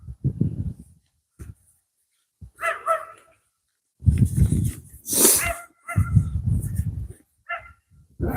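A dog barks in loud, close bursts with short gaps between them, mixed with a few yips and whimpers, heard during an evening bike ride.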